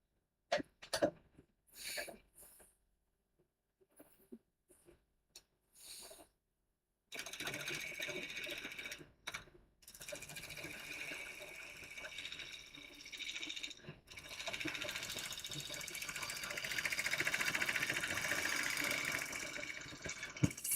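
Wood lathe with a gouge taking a thin cut across a spinning burl blank: after a few seconds of quiet, a steady scraping hiss runs continuously and builds slightly louder toward the end, close and alone.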